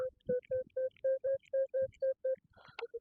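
A metal detector sounds a run of about a dozen short, even, tonal beeps in a steady rhythm over a buried two-bladed arrowhead, with faint rustling and handling noise around them.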